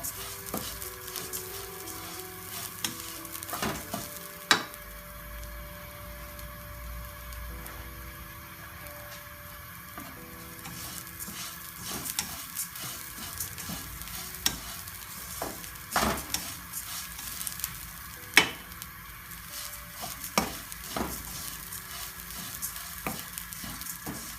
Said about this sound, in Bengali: আমার পোলাও চালটা ভাজা হয়ে গিয়েছে